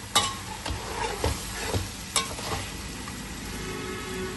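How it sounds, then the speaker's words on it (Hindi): Chicken pieces fry in a pan with a steady close sizzle, while a few sharp scrapes of stirring cut through at irregular intervals. "ये देखें जी चिकन हमारा फ्राई हो चुका है।"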